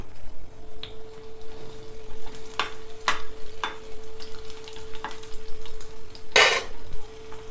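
Hot oil crackles and sizzles loudly as garlic and two dried red chillies fry, while a metal spoon clinks and scrapes the pan several times, close and busy.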